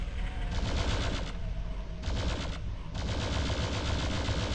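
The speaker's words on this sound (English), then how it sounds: "Let's actually use the plasma gun." Continuous rapid firing of the plasma gun in PSX Doom, a dense stream of buzzing energy shots with a couple of short pauses, loud and steady with no talking.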